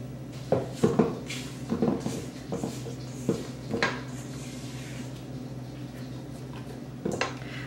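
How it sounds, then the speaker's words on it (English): A spatula scrapes cookie batter off a stand mixer's paddle attachment, giving a handful of close knocks, scrapes and soft squishy rubs in short clusters separated by quiet pauses. "So now I'll scrape it off my paddle attachment."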